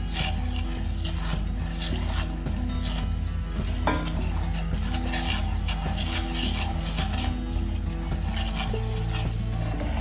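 A spoon stirring and scraping a homemade cough remedy browning over heat in a stainless steel pot, a continuous close rasping scrape with faint sizzling, no voices.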